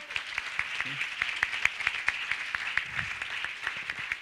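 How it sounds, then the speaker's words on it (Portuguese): An audience claps at a 2014 environmental journalism awards ceremony. The applause is moderate and steady, with sharp individual claps over a continuous patter, heard from a short distance for about four seconds. "Palmas para a Paulina."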